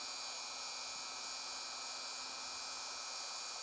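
A Dremel spins 1,000 grit sandpaper with a constant high-pitched whirring hiss that holds steady throughout, close and alone with no speech.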